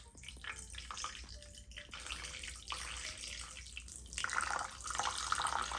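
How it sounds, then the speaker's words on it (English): Water pours slowly into chocolate cake batter in a kitchen, a continuous soft splashing and trickling that builds gradually, close up and fairly quiet, with no talk. "And then 150 grams of water."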